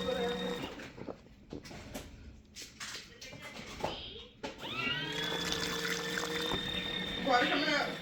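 Water gushes and splashes out of a small portable washing machine at home, starting partway through after some clattering handling noises and continuing steadily to the end, close and moderately loud.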